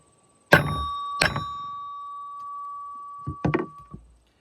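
Hammer blows on a hard cast lead bullet: two loud ringing strikes close together, with a long metallic ring sustained between them, then a quicker cluster of three sharper hits that fade out.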